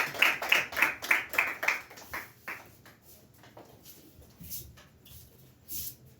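A church congregation claps together in a steady rhythmic burst of applause that fades after a couple of seconds, leaving quieter shuffling and a few faint later claps.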